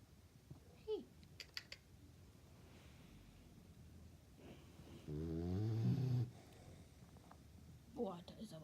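An 11-week-old boxer puppy snores while asleep, with a loud, rumbling snore around the middle and softer breathing noises before and after it, close by in a quiet room.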